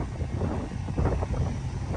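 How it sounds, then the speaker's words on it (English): Strong outdoor wind in Missouri roars and buffets the microphone in a continuous low rumble with gusty swells, no other sounds standing out. "And it's windy as fucking hell."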